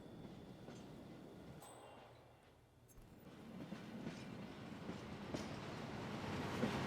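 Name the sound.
train passing by in video game Hitman 2, Mumbai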